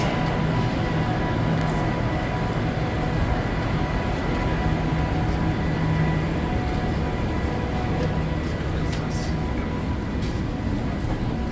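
A Transperth train pulls out of Joondalup station in Perth, heard from on board as a steady, loud rolling rumble with a faint hum that continues throughout.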